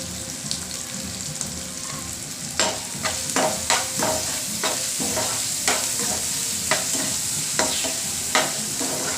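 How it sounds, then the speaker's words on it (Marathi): Onion and tomato masala fries in a pan for an egg and potato curry, with a constant close sizzle broken by repeated sharp scrapes and clacks of a spatula stirring at an irregular rhythm. "तो पण चांगला फ्राय होऊन द्यायचा आहे मऊ होस्तपर्यंत आपल्याला त्याला फ्राय करायचं"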